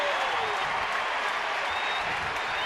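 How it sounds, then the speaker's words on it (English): Stadium crowd at a Rangers–Giants baseball game roars in sustained cheering and applause after a three-pitch strikeout, a dense, steady wash of noise throughout. "And this crowd goes crazy."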